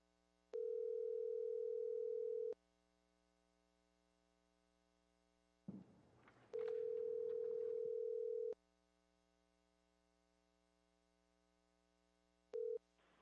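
Telephone line tones on a county Board of Supervisors public-comment call-in line: two steady two-second tones separated by a brief burst of line noise, then a short blip, with no talking.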